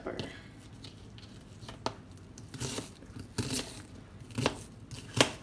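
Knife chopping onions on a cutting board, a handful of irregular sharp cuts spaced apart, moderately close, over faint kitchen background noise.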